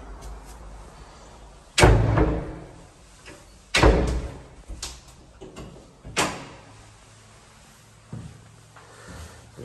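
A front door of a farmhouse-style home swings open with a series of loud, close wooden thuds and clunks spaced a couple of seconds apart, followed by a softer knock near the end.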